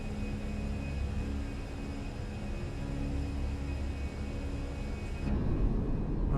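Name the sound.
airliner engines accelerating for takeoff, Microsoft Flight Simulator video game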